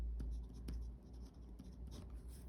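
A pen writes on paper in short, quiet strokes with small scratchy bursts, alone against a steady low background hum.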